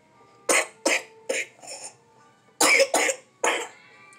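A sick baby coughs in two bursts of several quick, raspy coughs, close and fairly loud, with quiet pauses between.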